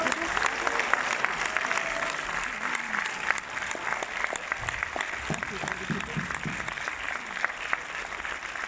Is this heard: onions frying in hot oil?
no